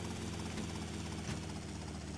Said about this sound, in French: Tout repose sur mon hélicoptère.